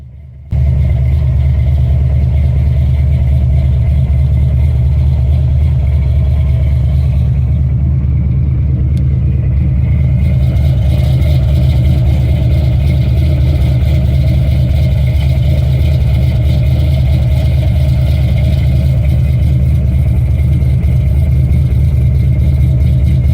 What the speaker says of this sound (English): That was the Malibu, Ford Malibu that I put together earlier this year.